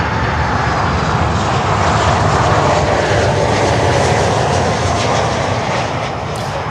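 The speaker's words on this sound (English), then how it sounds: "FedEx with a 777 coming in" A FedEx Boeing 777 jet roars past on its approach to land, a loud, sustained engine rumble and whine that stays close and steady, easing slightly toward the end.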